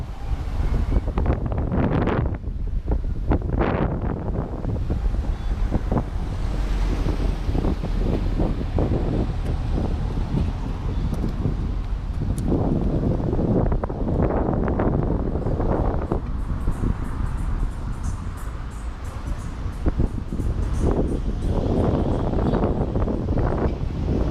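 Strong wind roars continuously across the microphone in Arima, Trinidad and Tobago, a loud, steady buffeting rumble throughout with occasional louder gusts.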